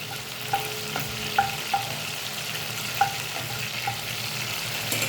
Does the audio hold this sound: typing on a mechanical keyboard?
no